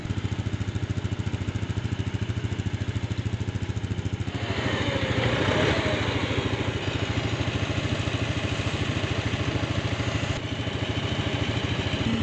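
A tractor engine runs steadily with a rough chugging idle, revving louder for several seconds before settling back.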